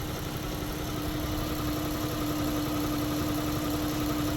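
A car engine idles under the open hood of a vehicle with a suspected torque converter failure, a steady mid-pitched hum with a constant tonal drone and light vibration, close and even throughout with no talk.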